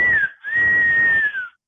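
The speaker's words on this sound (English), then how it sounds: "your son does a very good whistle impression" A child whistles a clear, steady tone, close and fairly loud, in two phrases split by a brief break, the second held long before sliding down slightly and stopping.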